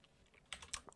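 A few light computer keyboard keystrokes in quick succession, close and faint, without speech.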